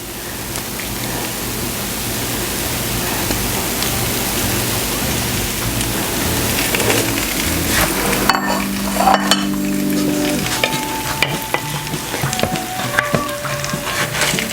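Onions, peppers and potatoes frying in a pan, a loud continuous close sizzle with occasional stirring scrapes and clinks partway through, no talking.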